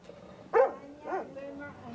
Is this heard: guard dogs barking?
yes